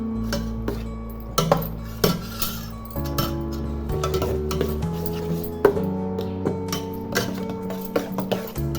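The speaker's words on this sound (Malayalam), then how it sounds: "നല്ല മിക്സ് ചെയ്യാം. ഒന്ന് മിക്സ് ചെയ്യാം. നമുക്ക് മിക്സ് ചെയ്യാം." A spoon stirs chicken manchurian ingredients in a pot or bowl, giving repeated metallic clinks and scrapes at an uneven rhythm over a steady low hum, close and moderately loud, with no talking.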